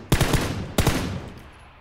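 Gunfire in the video game PUBG: two sharp bursts of rapid shots about two-thirds of a second apart, each fading into a short echoing tail.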